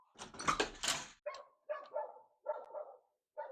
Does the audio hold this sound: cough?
no